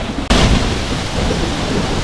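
A waterfall's water roaring down over rocks, a loud, dense, steady broadband rush that cuts in abruptly after a short gap and continues unbroken.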